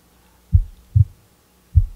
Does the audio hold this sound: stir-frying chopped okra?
no